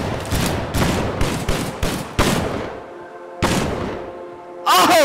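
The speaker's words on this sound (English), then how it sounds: "You just got sniped by a revolver!" Revolver gunshots ring out in the video game Gorebox: a rapid cluster of sharp, loud cracks followed by two more spaced reports with echoing tails, then a brief clattering sound.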